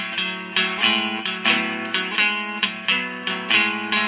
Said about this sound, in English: you're strumming only those 2 strings,